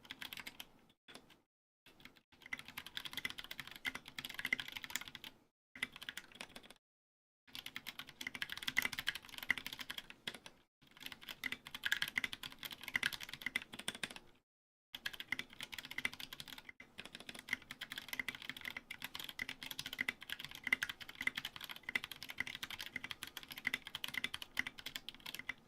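Rapid clacking of a Ducky One 2 Mini mechanical keyboard with hot-swap sockets during a typing test, close and crisp, in busy bursts broken by short pauses.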